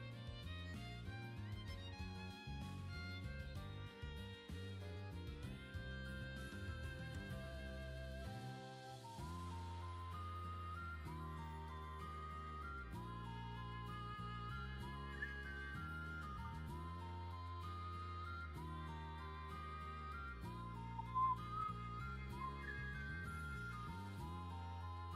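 Someone whistles a melody fairly loudly along with music playing in the background, the whistled notes continuing throughout.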